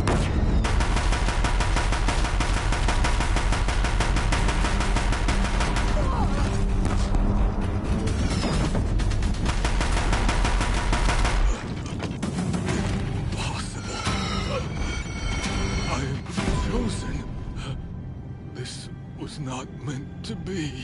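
Sustained gunfire and crashing bursts in the Horizon Zero Dawn video game, loud and dense for the first half then thinning into scattered shots and clanks, with a voice talking over much of it.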